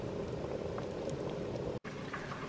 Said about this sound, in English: We're going to bring the soup to a gentle simmer and cook for about 20 minutes.